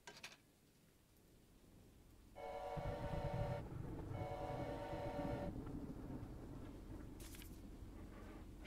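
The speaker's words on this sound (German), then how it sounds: "Ich gehe in meinen Zug zurück." A train rolls along in the video game Choo-Choo Charles with a steady, loud mechanical rumble that swells after a couple of seconds, while bright tonal whistle-like blasts sound over it for a few seconds.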